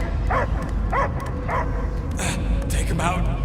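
Dog barks and whimpers from a possessed creature in the video game Guardians of the Galaxy, sounding in three repeated yelping bursts over a low droning game score, with a few sharper cries near the end.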